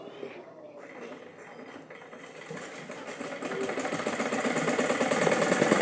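Sewing machine stitching around a fabric neckline, a rapid mechanical whirr that starts faint and grows steadily louder and more continuous toward the end, with a little speech-like sound early on.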